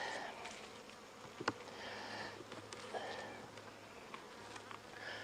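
Honeybees buzzing around an opened package hive during a September check of honey, pollen and brood frames, a steady moderate drone with a few small knocks and clicks.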